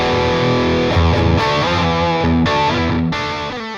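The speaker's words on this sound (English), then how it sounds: "So now we're on the heavy gain channel." A Gibson Firebird electric guitar played through the bridge pickup on a heavy gain amp channel, loud distorted chords ringing out in a few strummed hits with sustained crunchy tails.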